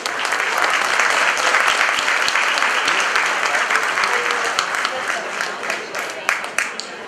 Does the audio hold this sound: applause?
yes